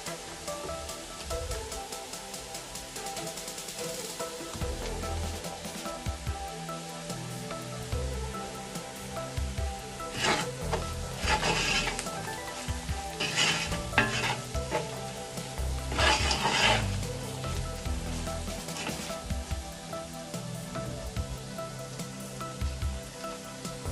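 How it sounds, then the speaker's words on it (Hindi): Boiled potatoes, salted during boiling, squished and mashed by hand for samosa filling, with soft wet squelching and rubbing that swells into louder bursts midway over a steady low background. "अब उसमें आलू जो है ना वो हम हाथों की मदद से ऐसे मैश करेंगे।"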